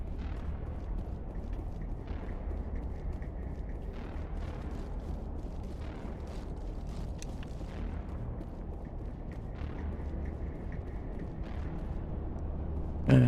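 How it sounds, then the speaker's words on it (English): Pistol firing three-shot bursts in Mass Effect Legendary Edition, a series of dull booming reports repeating every couple of seconds over a low rumbling background. "Oh, it's a 3-shot burst."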